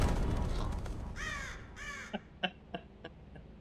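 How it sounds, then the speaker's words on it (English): A crow in the game Barrow Hill caws loudly and harshly twice up close, followed by a string of short, clipped caws spaced about a third of a second apart as the calls fade. "a bird comes out of nowhere and just like yells at us"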